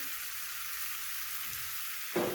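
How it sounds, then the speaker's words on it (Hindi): Onions and green chili paste frying in a pan give a steady, even sizzling hiss throughout, with a single brief clink from a utensil near the end. "अनियन को हम लाइट गोल्डन होने तक फ्राई कर लेंगे।"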